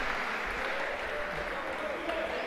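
Home supporters clapping in the stands at a football match between FK Prešov and ŠK Makroteam Žilina, an even, continuous roar of applause at moderate distance with a commentator talking over it.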